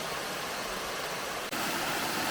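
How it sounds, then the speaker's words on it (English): Steady broadband roar of Midway Falls, a tall waterfall along the Fall Creek Falls Trail, heard close and continuous with a brief dip partway through. "Now here's another view of the Midway Falls"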